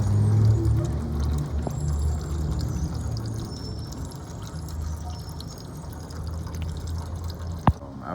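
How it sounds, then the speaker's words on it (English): Engine oil pours from the drain plug of a BMW E60 5 Series with an N52 engine, a steady trickling and dripping stream heard close up without talk, with one sharp tap near the end. "When you unscrew that, the oil will come out."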